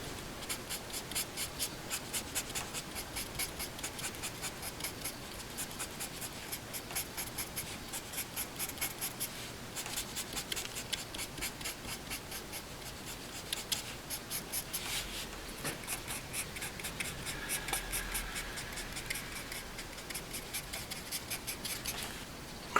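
A marker scratches lines across paper while drawing a Celtic heart-shaped interlace pattern, a close, dry, rapid stroking rhythm that continues steadily throughout with no voices.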